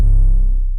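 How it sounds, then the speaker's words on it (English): A single deep, booming 808 bass hit with a long sustained low tone that slowly fades, slightly gritty. "So I think this is just like a plug 808."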